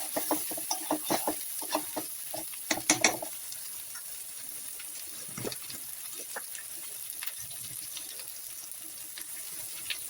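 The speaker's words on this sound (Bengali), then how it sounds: "ভালোভাবে নেড়ে মিশিয়ে নিব।" Prawns being stirred with ginger and onion paste in a pan for Bengali-style chingri bhuna: a cluster of irregular utensil scrapes and clicks over the first few seconds, then only soft, faint frying with the odd scrape.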